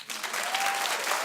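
Studio audience at a daytime talk show applauding steadily, a dense, even wash of many hands clapping close by, sustained and loud throughout with no pauses.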